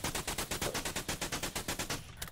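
Rapid gunfire shooting in the video game Until Last Breath, a steady burst of about twenty evenly spaced shots fired automatic-style at a quick rhythm, moderately faint, ending abruptly.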